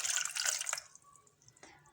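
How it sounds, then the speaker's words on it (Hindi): A cup of water poured into jaggery in a cooking pot, a short bright splashing pour that fades out, followed by a single faint drip. "इसके अंदर अब जाएगा 1 कप पानी का"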